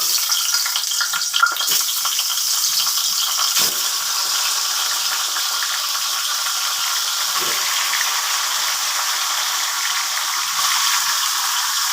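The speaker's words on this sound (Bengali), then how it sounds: "আমি এখন ভাজবো।" Katla and hilsa fish heads, rubbed with salt and turmeric, fry in hot oil with a steady, even sizzle and crackle that runs throughout, with a few faint clinks of utensils and no talk.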